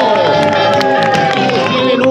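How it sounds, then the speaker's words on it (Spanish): A crowd at a large camper meetup on a Baja California beach in Mexico claps and cheers loudly and steadily, with shouting and dense voices mixed through the applause. "Fuerte aplauso"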